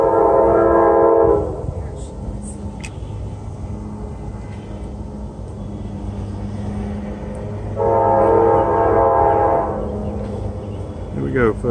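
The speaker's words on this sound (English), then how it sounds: "We got a train coming." Northbound freight train on a Kentucky–Tennessee rail line near a high bridge, rumbling steadily with two loud sustained horn blasts, one at the start and one near the end, over continuous wheel and engine noise.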